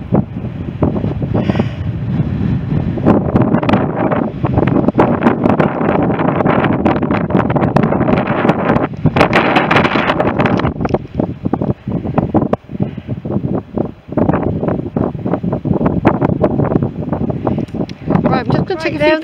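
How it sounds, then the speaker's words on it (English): Strong gusting wind at Sand Point on the coast buffeting the microphone, a heavy roaring rush that surges and dips over time. "It's very windy, isn't it?"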